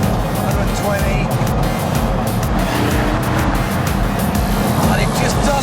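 A Pagani Huayra cruising at about 120 mph, with a steady, loud road and engine roar filling the cabin throughout, plus some tyre and wind noise.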